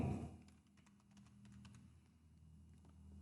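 Someone types quickly on a computer keyboard nearby, a short run of soft, light key taps over a quiet room hum.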